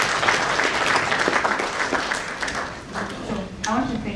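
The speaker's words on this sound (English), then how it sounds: "Round of applause, please" Conference attendees applaud at a scientific meeting, with a dense, steady wash of clapping throughout that dips briefly near the end. Voices can be heard faintly underneath.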